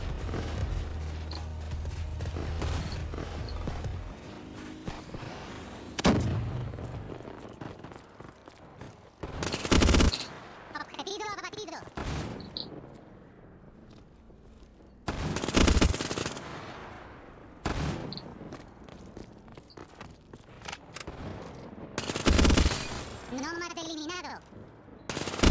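Gunfire in the video game Black Ops 3 comes as several loud, rapid automatic bursts separated by quieter stretches, with scattered single shots and game effects in between.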